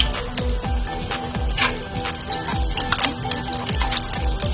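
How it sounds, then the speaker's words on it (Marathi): Leftover chapatis frying in a little oil in a pan over medium flame, giving a steady, close crackling sizzle with repeated sharp spatters and soft scraping throughout, with no talking. "अशा प्रकारे सर्व पोळ्या तळून घ्यायच्या आहेत कमी तेल घेतलेलं आहे"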